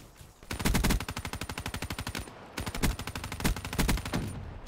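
Automatic gunfire in the Black Ops 3 video game: two long, rapid, evenly spaced bursts of loud close shots, separated by a short pause.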